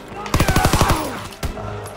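Rapid pistol gunfire in Call of Duty WWII, about eight sharp shots in quick rhythmic succession, loud and close, followed by a single louder report after a short pause.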